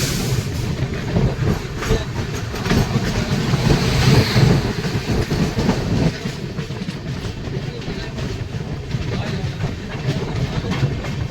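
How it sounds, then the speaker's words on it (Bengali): The Rupasi Bangla Express rolls slowly into Medinipur station with a loud steady rumble, rattling carriages and clickety-clack from the rails, plus some wind buffeting. "ট্রেন ধীরে ধীরে মেদিনীপুর স্টেশন এন্টার করছে।"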